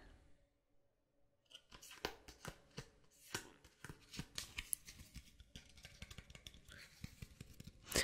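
Lego collectible cards shuffled and tapped by hand up close, a dense run of crisp, irregular clicks and papery flicks after a quiet first second and a half.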